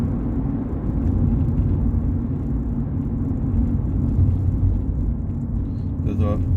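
A learner's car in a driving lesson creeps forward slowly in a traffic queue near the Dome roundabout in Watford, a steady low engine and road rumble continuing throughout, close and even.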